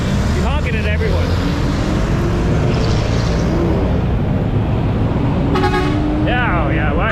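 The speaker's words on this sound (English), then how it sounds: "Why are you honking? You're honking at everyone." Car horns honk repeatedly in dense Manila street traffic, several short toots in two bursts near the start and end, over a steady engine rumble with people talking nearby.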